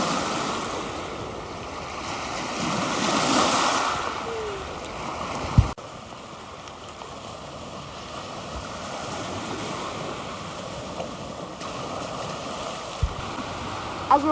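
Surf washing against the Lake Erie shore, a steady breaking wash swelling louder in the first seconds, with wind buffeting the microphone and a couple of sharp knocks.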